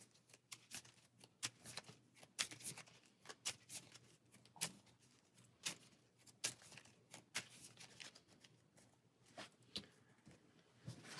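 Arkham Horror playing cards being shuffled, quick rhythmic riffling snaps and soft card slaps repeating close by and fairly quiet for about eleven seconds.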